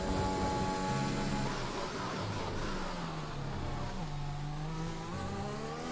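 Formula 1 cars race in the F1 2021 video game at the Austrian GP, a continuous high engine whine rising and falling through gear changes, steady and moderately loud with no talk.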